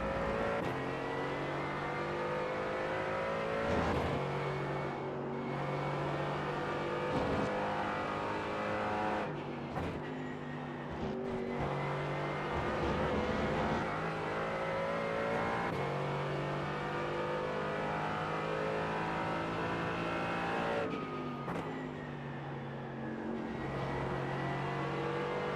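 GT4 race cars at Road Atlanta in iRacing roar off the start together, engines climbing through the gears in loud, overlapping harmonic revs with shift breaks, sustained and close throughout.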